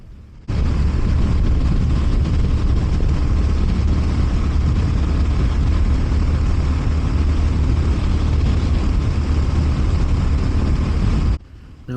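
Honda GB350S single-cylinder motorcycle engine droning steadily while riding, a loud, continuous low rumble mixed with wind noise that cuts off abruptly near the end.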